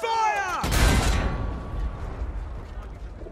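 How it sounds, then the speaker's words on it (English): Artillery fire in Battlefield 1 opens with a single heavy, booming blast after a brief mechanical creak, followed by a long rumbling decay and distant low thuds fading out. "All artillery! Fire!"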